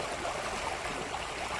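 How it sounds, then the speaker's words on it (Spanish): A small stream of water runs with a low flow near a country house, giving a steady, soft rushing trickle that continues evenly throughout. "Todavía corre agua, pero es poquita."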